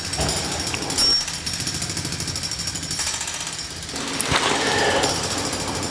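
A jackhammer pounds at a construction site outdoors, a loud continuous rapid hammering heard through walls with brief shifts in intensity and no talk.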